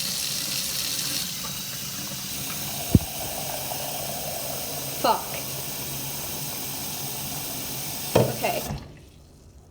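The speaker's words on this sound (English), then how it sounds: "We fill it with hot water." Hot water runs from a kitchen tap into a sink, a steady hissing rush that stops abruptly at the end, with a few clatters and someone briefly speaking over it.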